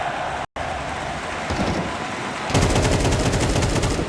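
Rapid automatic gunfire in Counter-Strike during a professional esports grand final, with a brief cut near the start and then a louder, fast rattling burst of shots over the last seconds.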